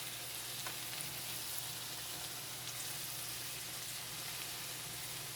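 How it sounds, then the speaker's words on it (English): Deep South dressing frying on a stovetop, a steady, close, even sizzle that holds without pause, with no talk. "Just let it fry on up a little bit more."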